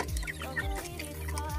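White Kelso gamecocks cluck in quick repeated bursts, close and fairly loud, with several birds overlapping in a steady flurry of calls.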